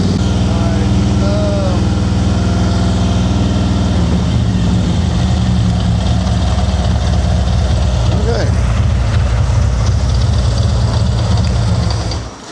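An 80,000-mile Harley-Davidson V-Twin motorcycle engine runs steadily at about 2,500 RPM, a loud, close, low throbbing drone that holds even throughout before cutting off abruptly at the end.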